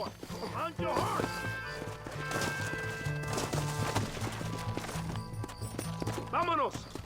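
Horse hooves clip-clopping in a Red Dead Redemption game scene, with a horse whinnying near the start and end, layered under a music score and background game sounds.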